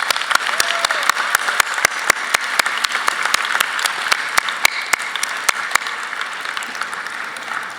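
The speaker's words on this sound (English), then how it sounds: "I think we owe our parents a big round of applause" A graduation ceremony audience applauds the parents at a high school commencement, a steady, dense wash of clapping with sharp individual claps standing out throughout.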